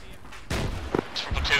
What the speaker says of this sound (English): the explosions are loud